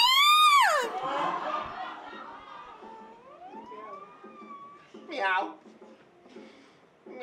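Voices imitate a cat's meow with drawn-out, sliding cries, several in a row, with some background chatter between them.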